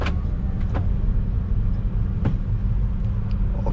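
A 2009 Honda Civic 1.8 i-VTEC facelift automatic pulls away on a test drive, its engine a steady, close low rumble inside the cabin with a few faint clicks over it.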